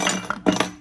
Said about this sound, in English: So I'm going to grab a big wrench